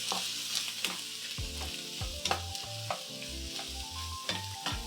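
Soup and tofu stirred together in a pan, giving a steady broadband scraping and sizzle with repeated low knocks of a utensil against the pan, close and alone with no voices.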